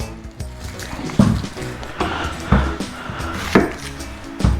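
A sharp knife cutting through an onion on a board, four firm chopping thuds spaced about a second apart over a low background hum, close and fairly loud.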